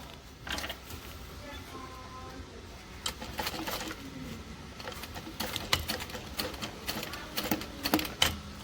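A sewing machine stitches across a scrap of vinyl, its needle running in short mechanical bursts and stops, close and moderately loud, with a faint voice in the background.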